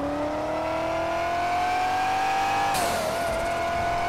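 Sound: car engine revving while driving, from video game GTA 5

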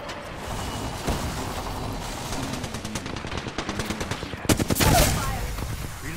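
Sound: gunfire in a shooter video game

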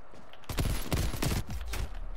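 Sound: pistol shots in a video game

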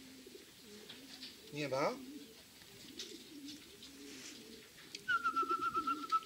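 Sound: pigeons flying overhead and cooing

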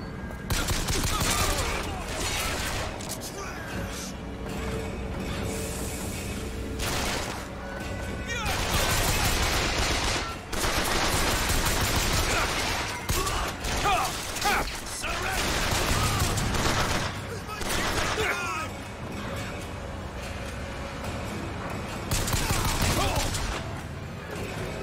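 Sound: machine gun fire in video game Bioshock Infinite

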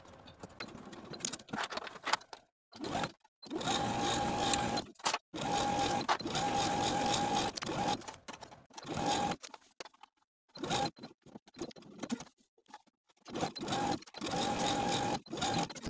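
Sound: sewing machine stitching bodice seam

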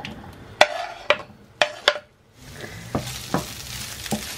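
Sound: sausages frying in a pan with olive oil

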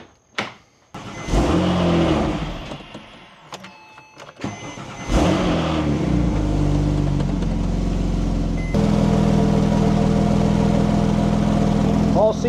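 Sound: car engine starting and idling after a repair

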